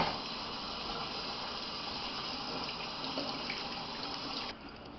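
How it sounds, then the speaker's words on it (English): Tap water runs steadily over beef back ribs in a sink, a continuous close splashing rush that drops in level near the end as the flow changes. "first thing we'll do is give them a little rinse."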